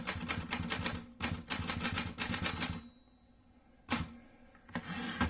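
A 1941 Smith Corona Sterling manual typewriter typing up close in quick bursts of crisp clacking keystrokes, pausing with a near-silent gap before a few final strikes.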